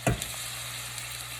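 Chopped green peppers dropped into a hot pot with sausage, onions and butter beans, a brief thump followed by a steady close sizzle and fry crackle, no talk.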